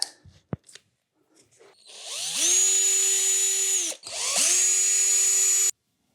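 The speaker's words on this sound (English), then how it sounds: "I'm gonna get my own tool set out and get a drill driver" Cordless drill driver whines in two long bursts as it spins out screws on an RC car's slipper clutch cover, each run holding a steady high pitch after a quick spin-up, close and loud, with a few small clicks and taps before.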